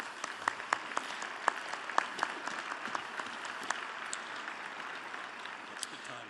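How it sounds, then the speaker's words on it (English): Presidential debate hall audience in Las Vegas applauding, a broad crowd clapping with distinct sharp individual claps standing out near the front, steady throughout and fading slightly, with faint voices mixed in. "let's give them a round of applause"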